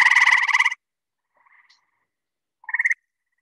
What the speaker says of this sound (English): you can hear its call in this video with a background of chorusing gray tree frog trills